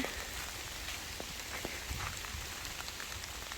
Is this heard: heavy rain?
yes